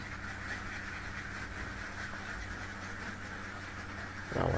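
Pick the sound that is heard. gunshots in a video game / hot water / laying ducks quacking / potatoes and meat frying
laying ducks quacking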